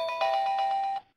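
Phone ringing during a USGS webinar, a short electronic ring of steady repeating tones lasting about a second, clear and alone before cutting off.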